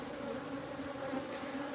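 Honeybees hum steadily at a sanctuary hive box as spring warmth returns, a dense, continuous close-up drone with no voices.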